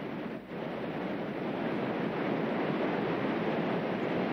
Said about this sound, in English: That is the rapid at the end of Beachy Lake.